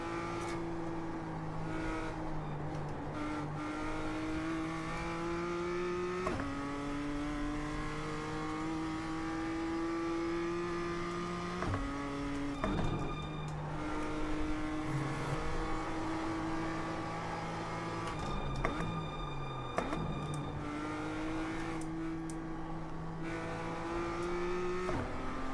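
A race car pulling out of the pits on cold tyres in a racing sim, engine revving up through rising gear pulls with sharp shift drops, steady and close with no talk.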